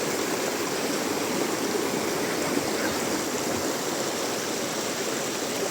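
A river at Brgy Mahaba, Cabadbaran City, flowing with a steady, moderately soft broadband rush of water, constant and unbroken with no voices.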